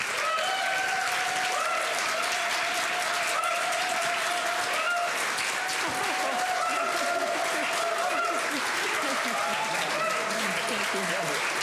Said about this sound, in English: if I'm going to get applause like that before I start